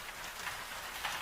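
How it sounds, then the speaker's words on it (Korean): Steady rain falling outside a window, a soft continuous hiss of drops with gentle swells, heard alone at low level. "지금 창밖에서 들려오는 저 규칙적인 빗소리가"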